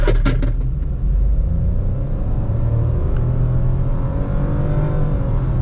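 A 2025 Renault Kiger with a CVT pulls away at full throttle in D mode, its engine a loud, steady, droning rumble that rises smoothly without gear-shift breaks, heard close from inside the car.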